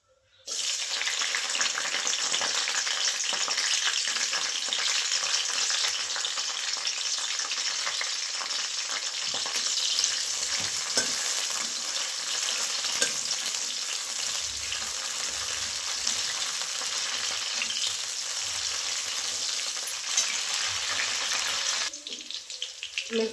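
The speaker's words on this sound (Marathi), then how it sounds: "आता पहिल्यांदा मिरच्या तळून घेते." Green chillies fry in hot oil in a wok, giving a loud, steady sizzle and crackle that runs unbroken for about twenty seconds before dropping away near the end.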